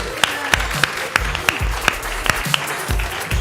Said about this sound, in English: give a round of applause to Kelly, Alex, and Otter, please